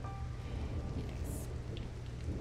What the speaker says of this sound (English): It's pouring rain outside.